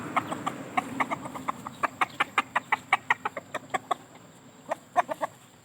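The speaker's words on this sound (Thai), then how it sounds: "นี่ครับพ่อไก่ตัวนี้ก็มี" A rooster clucks in a quick, steady series of short calls, fairly close, pausing briefly before a few more clucks.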